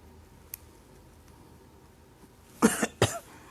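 Two harsh coughs from one person, close and loud, each a broad burst, coming in quick succession after a faint click and a stretch of quiet room tone.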